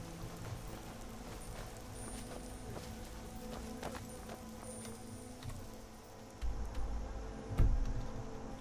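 Steady rain hiss in the northern woods of Falkskaar in Skyrim Special Edition, a constant wash with scattered heavier patters and a few louder low thumps near the end, no talking.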